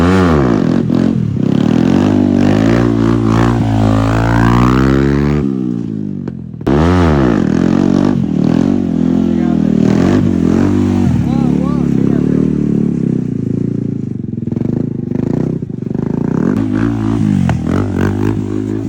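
Motorcycle engines revving loudly during a stunt show, with continuous roaring and changing pitch close by, a brief dip midway, and crowd voices mixed in throughout.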